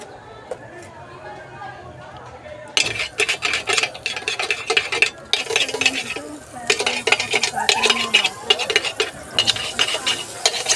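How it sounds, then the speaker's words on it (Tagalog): Margarine heating in a frying pan on a home stove: quiet at first, then a sudden bright, crackling sizzle with scraping and stirring that keeps going, with voices talking over it. "Pakulo tayo ng margarine"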